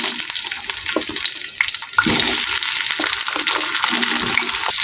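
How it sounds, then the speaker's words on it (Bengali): Teasel gourds fry in white oil in a wok over medium heat, a continuous loud hiss and sizzle with a few stirring knocks early on. "এখন এটাকে ভালো করে তেলের মধ্যে ভেজে নিচ্ছি।"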